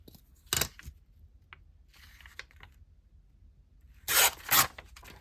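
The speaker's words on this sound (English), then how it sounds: "I'm going to rip it here." A paper page for a scrapbook mini journal is torn by hand. Two brief, close ripping bursts stand out, one short and a longer double tear near the end, against a quiet background with faint rustling.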